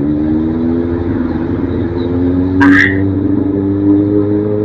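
A truck loaded full of sugarcane rumbles past at night, a steady close engine drone with a brief sharp horn-like burst midway.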